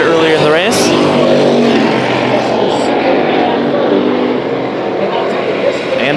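Pure stock race cars roar around the Arizona Speedway track during a heat race, loud and close with engines droning and sweeping past, while a commentator talks over the noise.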